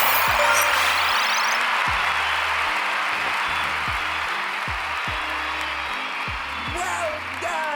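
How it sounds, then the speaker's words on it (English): A class applauds with steady clapping that carries through the whole stretch at an even level, and a voice talks over it. "Claps."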